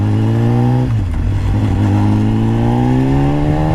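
A 2014 BMW S1000RR HP4 motorcycle accelerates in second gear at quarter throttle, its loud close engine tone climbing steadily in pitch after a brief dip near the start.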